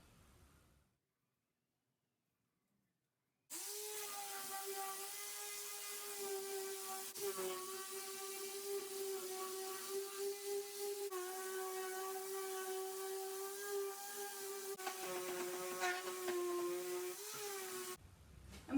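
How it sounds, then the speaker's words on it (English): A power sander whirs at a steady, loud pitch for about fifteen seconds after a short silence, lightly scuffing painted wood to bare some of the grain for a distressed finish. "you're going to sand this down very lightly and expose only some of the wood, leave most of the color"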